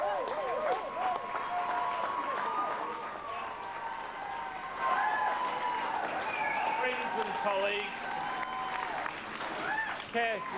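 A crowd of Labor Party supporters cheers and applauds on election night as their leader arrives to concede, a steady roar of clapping and shouts running under a voice addressing them.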